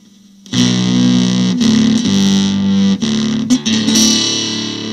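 Larrivee acoustic guitar run through a Blues Devil overdrive pedal gives a thick, distorted, sustained chord sound, loud and continuous with a few brief strum breaks, close and without voices.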